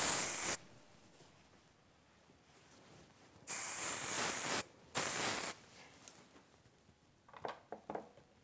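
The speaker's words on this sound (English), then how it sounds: "We're going to go ahead and finish here with our Awaken thickening spray" Thickening hair spray is sprayed from a can in three close, sharp hissing bursts, one long and two shorter, separated by quiet gaps, with light handling sounds afterward.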